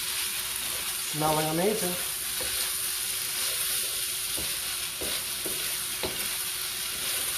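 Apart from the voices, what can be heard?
stirring fried rice with chili bean paste in a pan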